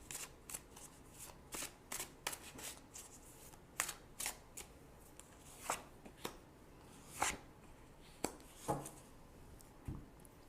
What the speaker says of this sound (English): Now I'm going to choose 2 cards for possible outcome.